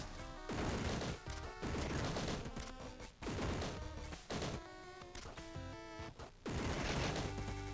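In the Downwell video game a machine gun fires in rapid bursts of shots, loud and up front, alongside the game's electronic music. Short pauses break up the volleys.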